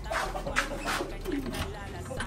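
A pigeon coos softly in a loft, a few low murmuring calls mixed with faint background voices and ambient noise.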